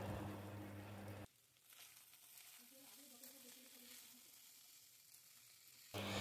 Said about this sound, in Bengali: মাংসগুলো দিয়ে একটু নাড়ব।